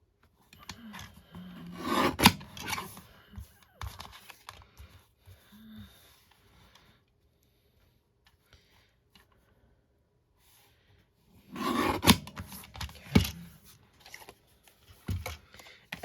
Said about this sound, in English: Let's cut this card down just a little bit.